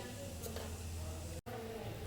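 Cumin and a few fenugreek seeds sizzling in two to three tablespoons of hot oil in a pan, a faint, even crackling hiss that runs throughout with one momentary dropout.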